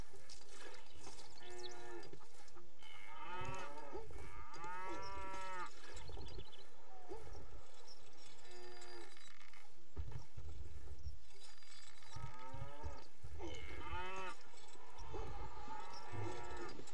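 Cattle lowing in the medieval strategy video game Stronghold, with livestock suffering a strange disease, repeated moos rising and falling over a busy game soundscape with hoof clops and other farm sounds, no talking.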